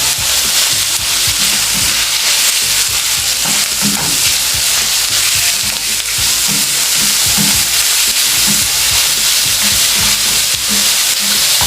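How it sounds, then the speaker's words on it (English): Minced meat fries in a pan over low to medium heat, a loud continuous sizzle with repeated scraping and clacking as it is stirred, close, with no talking. "Then we're gonna cook it on low or medium heat until it changes color."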